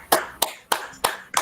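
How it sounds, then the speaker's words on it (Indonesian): A few people clap together in a quick rhythmic pattern, five sharp claps close by. "Kita kasih tepuk segitiga buat Kak Idris"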